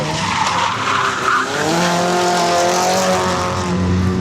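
Drift cars skid on a live racetrack beside a hairpin, tires squealing under a loud, continuous engine howl that rises and shifts in pitch, close by, with no talking.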